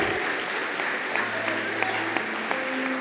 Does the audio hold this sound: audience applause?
yes